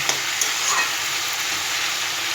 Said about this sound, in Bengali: জল ছাড়া হালকা আঁচে আমি কষিয়ে কষিয়ে পুঁই শাক রান্না করি